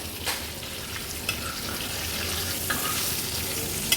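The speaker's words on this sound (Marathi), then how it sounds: "एक बाजू व्यवस्थित फ्राय करून घेतली आहे मागची बाजू पण दीड ते दोन मिनिटासाठी अशीच फ्राय करून घेणार आहोत" Pomfret fish frying in a pan on low to medium flame after being flipped, giving a steady close sizzle with light crackles throughout and no voices.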